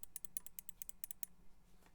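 About a dozen quick, crisp clicks from a mouse and keyboard on a Linworks PC Dolphin build come in an uneven burst, fairly faint and close, then fade into quiet hiss.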